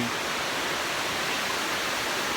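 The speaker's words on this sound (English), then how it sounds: "So I found this cool waterfall here." A waterfall in Tomlinson Run State Park roars as a steady, dense rush of falling water, close and loud throughout, with no other sounds.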